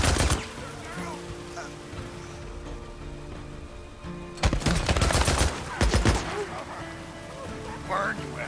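Gunfire in Days Gone comes as a sharp burst at the start, then heavy rapid volleys crack out in the middle and end, with voices shouting between the shots.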